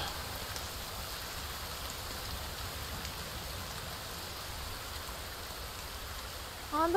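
Steady rain falls in the video game The Forest, a constant soft hiss with a brief louder bump at the very end.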